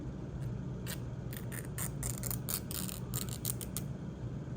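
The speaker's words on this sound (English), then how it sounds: "I'm gonna tear this piece down the middle." A piece of tape is torn down the middle in a rapid series of short crackling rips, close and fairly quiet, with no talking.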